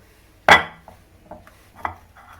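Food set onto the plastic holder of an IKEA 365+ mandoline slicer, one sharp close knock followed by a few soft faint taps and clicks in a quiet room.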